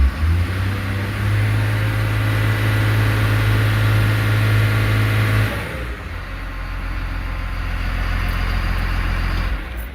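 A Caterpillar IT28G loader's engine is pushed to full throttle in gear against its brakes, giving a loud, steady, deep drone for about five seconds before easing to a lower, rougher running sound.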